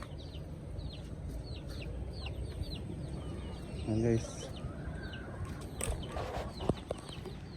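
Chickens cluck softly in the background throughout, with one louder burst of clucking partway through, while someone talks over them.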